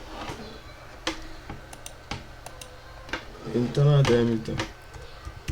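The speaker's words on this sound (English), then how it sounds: "Now let's open Excel. I will type, let's say," Keys clack on a computer keyboard as a spreadsheet entry is typed, scattered sharp taps spread through the clip while someone speaks briefly near the end.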